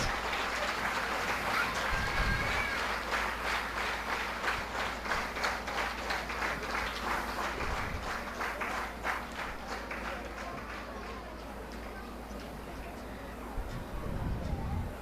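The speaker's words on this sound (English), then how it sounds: "Please don't stop clapping," Parents applaud a children's performance at a culture camp talent day, rhythmic sustained clapping from a crowd that slowly thins, moderately loud, with low murmuring underneath.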